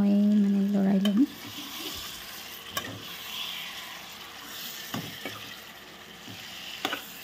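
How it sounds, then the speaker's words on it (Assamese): Local chicken frying in oil in a home kitchen, a steady sizzle under scattered stirring clatter and utensil knocks, opening with a brief tonal hum that cuts off after a second. "সেইখিনি মই লোকেল মুৰ্গীখিনি ঢালি দিলোঁ"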